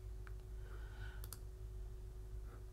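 Computer mouse clicks sound faintly in a quiet room while someone works in Cricut Design Space, a few light, sharp taps spread over steady low hum, with no talking.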